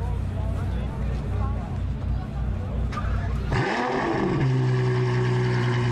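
A Ferrari 812 GTS with its naturally aspirated V12 is revved hard close by. The engine note climbs into a loud, sustained high-pitched wail and holds there, with steady heavy engine noise underneath.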